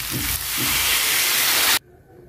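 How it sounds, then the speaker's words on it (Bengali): Water is poured into a hot pan of potato and pointed gourd curry, setting off a loud rushing hiss that builds and then cuts off abruptly, leaving quiet room tone. "কষে নিয়েছি, জল দিয়ে দেবো।"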